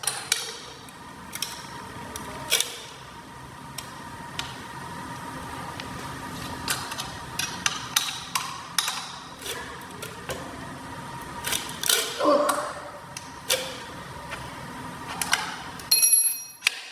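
Tools working the handlebar clamp bolts on a Prodigy scooter, giving scattered close metallic clicks and taps that cluster more densely toward the end.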